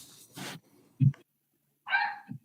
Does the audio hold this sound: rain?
no